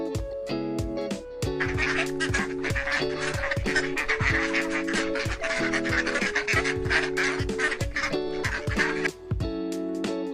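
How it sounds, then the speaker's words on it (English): Duck quacking loudly and close, a rapid, continuous series of nasal calls in overlapping bursts with fowl-like chattering throughout. "duck"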